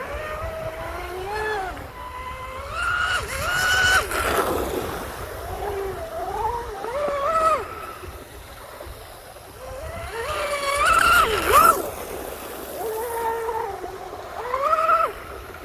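A small RC boat motor, carrying a heavier battery, whines and rises and falls in pitch as it speeds up and slows, buzzing steadily with outdoor noise behind it.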